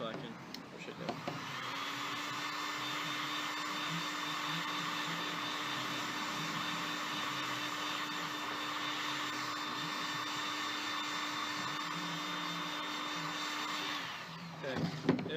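A heat gun blows steadily on a crossbow limb, a constant close whirring hum with a high whine that starts, holds evenly and cuts off near the end.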